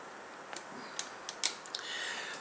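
A small screwdriver tightens screws on a locking nut that clamps guitar strings, giving faint, close, irregular clicks and creaks from the metal mechanism.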